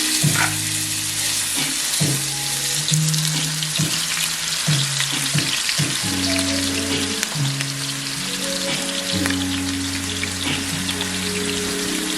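Beef pot roast searing in a hot pot, giving a steady loud sizzle and fry crackle throughout, with low hum tones layered beneath and occasional knocks from the pot.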